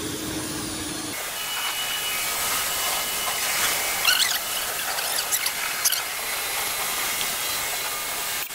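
Continuous loud hiss of a pressure washer spraying a car engine to rinse off degreaser, with a higher whine at the start and brief squeaky bursts in the middle.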